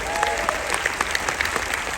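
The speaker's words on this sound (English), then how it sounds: "Big round of applause for your cruise director" A burst of audience applause for a cruise director during a stand-up comedy show aboard a Celebrity cruise ship, with quick crisp claps and voices mixed in.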